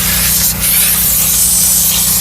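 A steam cleaner blasts a steady, loud, close hiss of steam onto a car's plastic side trim, continuous with no talking.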